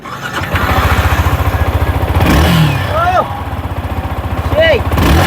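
A 2024-model motorcycle engine, the bike an R15, runs with a steady pulsing throb and a few sharp rev rises, close by, while people talk over it.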